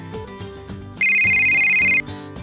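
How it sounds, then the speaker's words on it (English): A telephone rings as a story sound effect in a family home at lunchtime, with one loud, steady electronic ring lasting about a second that cuts over background music, then stops. "I heard the phone ringing"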